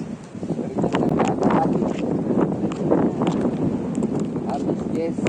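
Strong gusting wind buffets a microphone while fishing on a boat, a rough, uneven rumble and rustle that rises and falls, with people talking through much of it.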